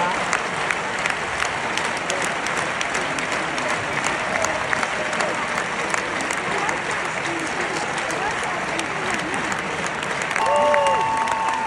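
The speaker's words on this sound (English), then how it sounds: "Why are they clapping like that?" Applause from a crowd carries on steadily throughout, dense and even at moderate distance, with a voice heard briefly near the end.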